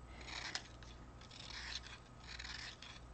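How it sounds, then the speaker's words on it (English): An artist's blade whittling down the wood of a drawing pencil, giving soft, quiet scraping and shaving strokes in short repeated bursts, close by and faint, with one sharp click near the start. "So I also whittle down the wood as well"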